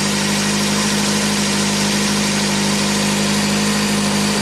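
A 1987 Toyota MR2 engine runs steadily with its revs held up, a constant loud mechanical drone with no change in pitch.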